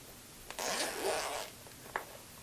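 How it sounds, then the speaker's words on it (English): The zippered carrying pouch of a Comica Vimo wireless microphone kit is unzipped in one close, quiet pull lasting about a second. A small click follows, then a faint rustle. "If we open up the pouch"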